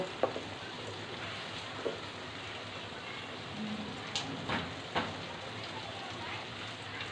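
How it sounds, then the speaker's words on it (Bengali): Spice paste sautéing in a pan for beef liver curry, a soft continuous sizzle with scattered scraping and stirring knocks, close and moderately quiet. "মশলাটা ভালো করে আমি কষিয়ে নিব তারপর কলিজাটা দিব"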